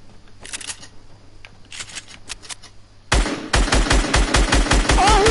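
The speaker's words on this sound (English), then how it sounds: "who's shooting me?" Video game gunfire rattles in scattered short bursts at first, then erupts into loud, rapid, evenly spaced automatic shots that continue to the end.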